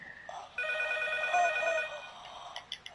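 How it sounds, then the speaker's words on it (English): A telephone rings in the game P.T. with a steady electronic trill for about a second and a half, then fades into a few short clicks. "the phone's ringing! The phone's ringing!"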